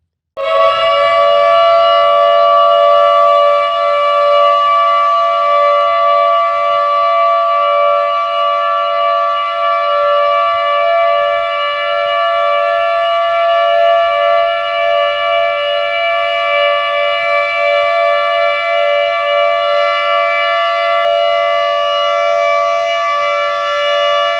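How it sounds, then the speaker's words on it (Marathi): A civil defense siren sounded for Martyrs' Day, Gandhi's death anniversary, holds one loud, steady wailing tone for over twenty seconds without pause, alone and with no talking. "दहा वाजून एकोणसाठ मिनिटांनी सायरन वाजवण्यात आले"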